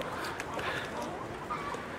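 Hens on a farm cluck softly and briefly, fairly faint, with low background noise and no clear talking over them.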